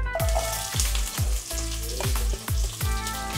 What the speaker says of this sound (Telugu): ఆవాలు జీలకర్ర చిటుపట్లాడుతుంది చూడండి